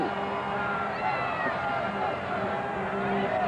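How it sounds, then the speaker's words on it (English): A New Year's Eve crowd packs Times Square in New York in 1988, a steady dense hubbub of many voices and general street noise continuing without a break at moderate loudness. "And at Times Square, the crowd's making ready to make merry"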